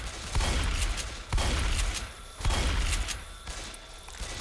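Gunfire in Left 4 Dead 2, a series of heavy thumping shots roughly every second, each a sharp loud burst fading into rumble, with no talk over it.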